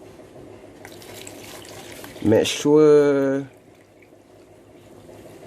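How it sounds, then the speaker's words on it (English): Lake or rain water pours into a laboratory beaker during a water purification experiment, a splashing stream building to a loud burst midway, while a person briefly speaks. "firstly we need to put our water sample into the beaker first."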